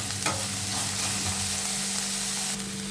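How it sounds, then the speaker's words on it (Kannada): Sliced bitter gourd and onion frying in hot oil, a steady continuous sizzle with light stirring scrapes throughout, close and even, no voices. "ಆನಿಯನ್ನು ಮತ್ತು ಹಾಗಲಕಾಯಿ ಸ್ವಲ್ಪ ಚೆನ್ನಾಗಿ ಫ್ರೈ ಆಗಲಿ"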